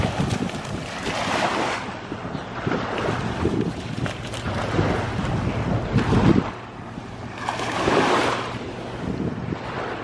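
Steady roar of wind and churning water around a large vessel, with gusts buffeting the microphone and waves washing throughout.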